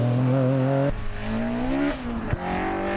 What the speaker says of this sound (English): the tarmac king of its day, the 6R4, teamed today by Ron Aitken and Brian Neal